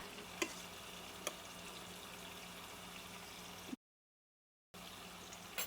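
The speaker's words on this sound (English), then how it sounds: "Let's stir these beans up and see how they look." Pinto beans in a pot are stirred with a soft, continuous bubbling and scraping, a couple of faint clinks on top, broken by a sudden second of silence.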